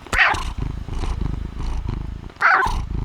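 A female cat purrs loudly and close by, a steady low rumble broken by two brighter vocal bursts near the start and the end.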